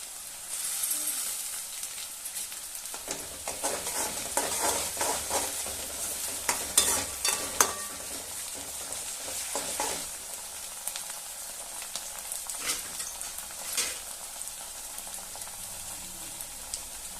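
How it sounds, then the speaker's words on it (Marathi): Ginger garlic paste and onion fry in an oiled pan for spicy village-style chicken, with a steady soft sizzle under repeated stirring and scraping, fairly quiet and free of talk. "आता याच्यामध्ये आलं लसूण पेस्ट टाकायची आहे"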